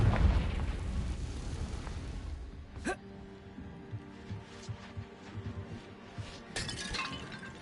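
A Confringo fire spell in the video game Hogwarts Legacy goes off with loud blasting bursts and shattering cracks. One burst comes early and another later, with crackling debris and rumble trailing off between them.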